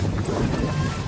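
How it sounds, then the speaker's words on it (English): Steady wind buffets the microphone with a low rumble, like gusts out on open water, on a cold, windy day at Chesapeake, Virginia. "It is cold, it is windy"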